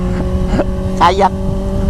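A Yamaha YZF R15 single-cylinder motorcycle engine drones steadily and fairly loud throughout, while someone talks over it.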